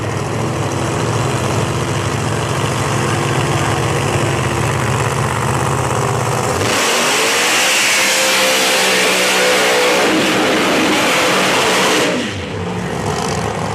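A drag racing car engine roars hard and close at a Bradenton Motorsports Park qualifying session, a sustained loud blast that shifts in pitch midway before cutting to a lower rumble near the end.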